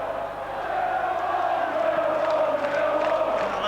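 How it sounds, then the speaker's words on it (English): Arsenal supporters roar and cheer after an equalising goal against Millwall at The Den in a 1989 First Division match, a sustained dense crowd swell that holds steady and loud throughout. "that's got the Arsenal fans cheering"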